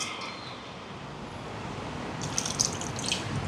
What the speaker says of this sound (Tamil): இந்த மாதிரி தண்ணி வடிய விட்டேன் நான்